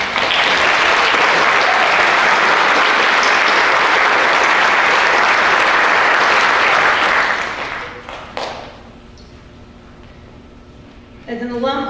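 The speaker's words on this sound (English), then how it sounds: "Can we just have a round of applause?" Loud, sustained applause from a commencement audience at a practical nursing school graduation, dense clapping for about seven seconds before fading into quiet room tone, with a brief swell of clapping returning at the end.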